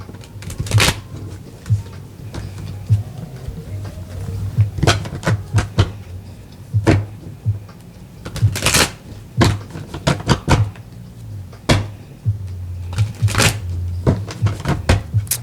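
A deck of tarot cards is shuffled by hand in a quiet room, with repeated sharp riffles and soft slaps that come in uneven bursts and sit close to the listener.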